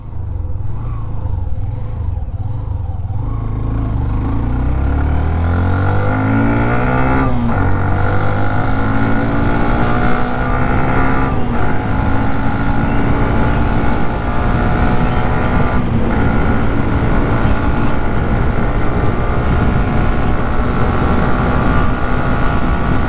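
A Hero Xtreme 125R motorcycle engine roars steadily at about 100 km/h, its pitch sweeping upward then holding, with constant rushing wind noise throughout and no voices.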